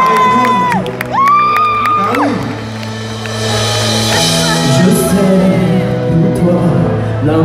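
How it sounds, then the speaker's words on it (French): Concert audience at a 2018 show in Réunion cheers, whoops and shouts loudly over sustained music, with a dense crowd roar building in the second half. "Ça s'applaudit quand même."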